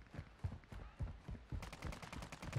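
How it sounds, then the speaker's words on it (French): Gunfire in the Warzone 2 video game comes as faint, distant bursts of shots in an uneven rhythm, growing slightly denser and sharper toward the end. "Ça tire dans le coin."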